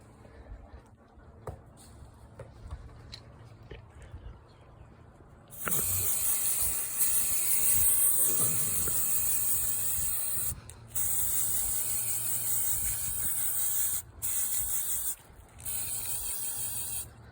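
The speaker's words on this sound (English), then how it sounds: "So I'm just going to spray this." A quiet room, then an aerosol can of varnish sprays in several long hissing bursts with short pauses between them, loud and close.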